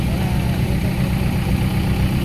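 A tractor stuck in mud runs at a steady, loud idle, its low engine drone continuous and close with no change in pitch.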